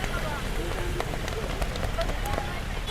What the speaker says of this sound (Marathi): पाऊस आलेला आहे परत.